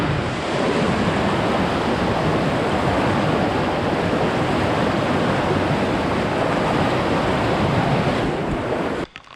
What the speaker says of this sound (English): And you can see the water swirling around the pillars quite close to the tracks.